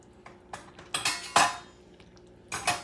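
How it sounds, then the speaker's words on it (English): Spoon scraping and clinking against a pot of spicy stew with added stock, in a few short bursts of irregular stirring, close and moderately loud with no talk. "Stir a little bit."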